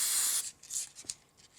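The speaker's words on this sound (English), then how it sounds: "what I'm going to do is spray them with some spray glue." Spray glue from a can in a small spray box during card crafting: a loud hissing burst lasting under half a second, followed by a few shorter, fainter puffs, close up with no talking.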